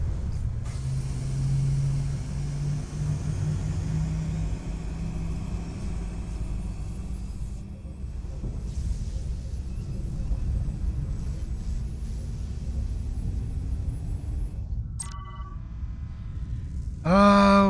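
A shuttle engine in the Star Trek Resurgence video game rumbles steadily at takeoff, a sustained low roar with a rising whine, ending in a sharper burst of electronic tones.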